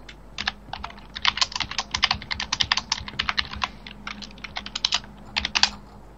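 Rapid typing on a computer keyboard while writing a chat message during a GTA SA-MP game session, a dense run of sharp clicking keystrokes in bursts with brief pauses, close and clear over a low background hum.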